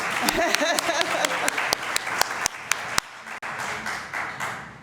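A church congregation at a Sunday service breaks into loud, sustained applause with many hands clapping, sharp individual claps standing out before it thins into a softer room murmur.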